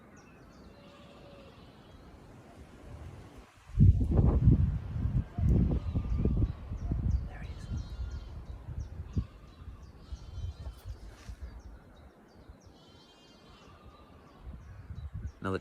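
A chiffchaff sings faint, repeated high notes from a hedgerow by a field gate along a country lane, mostly distant and partly buried under a burst of low rumbling noise, with someone speaking briefly.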